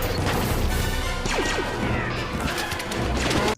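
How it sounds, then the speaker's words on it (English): Continuous loud crashing and smashing of a battle scene from the Star Wars film Attack of the Clones, with dense impacts, whooshes and clanging filling the whole stretch. "What's all this noise? A battle!"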